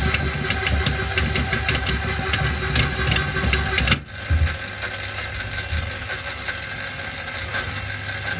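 A cable stripping machine working through heavy single-core copper cable, 300mm and 185mm, gives a steady mechanical drone with rapid clicking and ratcheting. Its load shifts audibly about halfway through, then it runs on without talk.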